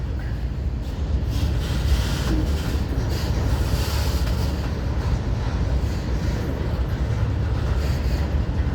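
LNG-powered freight locomotives pull a southbound train out of Jacksonville, Florida, a steady, loud low rumble with rushing wind-like noise that continues evenly throughout.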